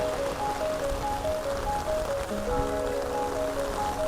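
Steady rain patters on a surface at Namo Garden, a constant dense hiss with faint tonal music-like notes running underneath.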